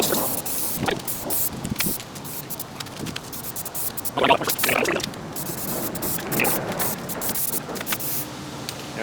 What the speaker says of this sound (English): I'm just gonna do the bottom with the self-etching primer